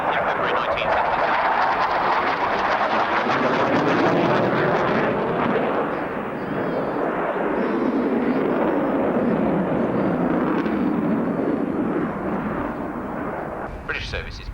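A military jet powered by two Rolls-Royce Spey engines roars loudly and continuously at an RAF Abingdon airshow in 1990, with a commentator talking over the engine noise.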